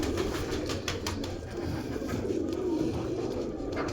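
A Feroz Puri breeder pigeon, a hen close to laying, coos softly and steadily at close range against a constant background hum, with no voices.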